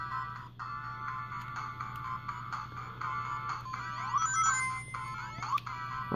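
Sega Mega Drive game music plays from a portable Genesis handheld, a bright, beeping chiptune melody with repeating electronic tones over a low steady hum, moderately quiet and continuous.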